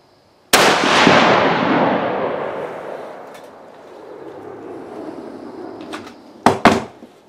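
A single loud rifle shot from a 1943-made Savage No4Mk1 rifle fired for the first time, with a sharp crack and long echoing decay, followed a few seconds later by two brief clattering bolt or handling noises.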